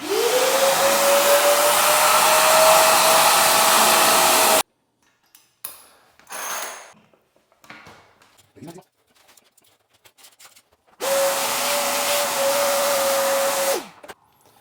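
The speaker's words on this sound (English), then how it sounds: "The easiest way is with the vacuum." A vacuum cleaner roars steadily with a constant whine for about four seconds while clearing water during a toilet replacement, cuts off to quieter handling noises, then starts up again for a few seconds.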